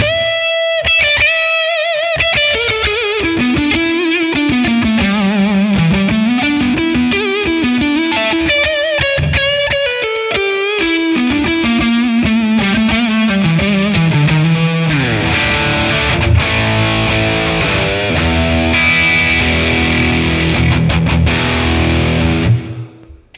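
High-gain electric guitar, a Les Paul on the neck pickup, plays through a Friedman amp capture with reverb, starting with a sustained distorted melodic lead line, then shifting to chunky saturated chords and riffs, loud and alone.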